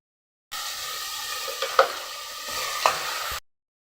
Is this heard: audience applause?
no